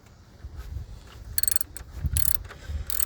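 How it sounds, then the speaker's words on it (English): Ratcheting clicks from a wrench tightening a bolt during a serpentine belt replacement on a 2000-2004 Subaru Outback, heard as a few short rapid bursts of metallic clicking over low mechanical rumble. "So now what we do is tighten this bolt right here."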